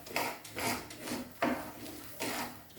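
Barley dry-roasts on high flame in a non-stick pan, heard as soft repeated scraping and rustling strokes every half second or so, close but faint, with no talk.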